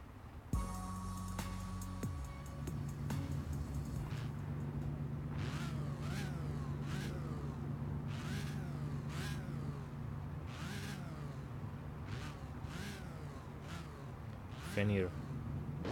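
A Ferrari 599 GTO racing in the mobile drag game CSR 2: a loud, close engine revs and climbs through repeated rising sweeps, with quick shift drops between pulls over a steady rumbling base.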